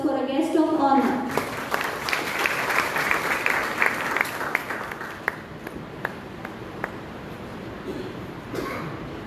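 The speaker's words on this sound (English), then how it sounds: "Give a round of applause for a guest of honor." An audience at a student nurses' association celebration in a hall gives a round of applause for the guest of honor. Dense clapping swells and then thins to scattered claps, with faint voices underneath.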